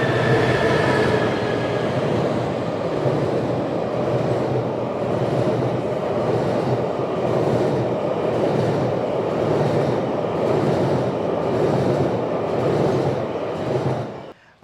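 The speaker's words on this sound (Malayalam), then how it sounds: "ട്രെയിൻ വരുന്നുണ്ട്, അങ്ങനെ നിന്നോളി." Train rumbling past at close range, a loud sustained roar with rhythmic wheel clatter that runs steadily for the whole stretch and cuts off abruptly at the end, with no talk over it.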